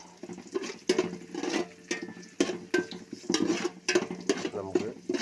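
Rice being stirred in a pot with cloves and cardamom, frying in ghee for biryani, giving repeated scraping and clinking strokes of a utensil against metal with a low sizzle underneath.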